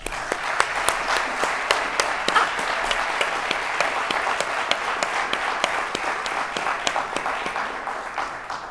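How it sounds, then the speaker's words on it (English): Audience applauding for the mayors at an evening city State of the City address, steady clapping throughout with distinct sharp claps standing out from the dense crowd sound. "Please join me in another round of applause for the mayors who are gathered here tonight"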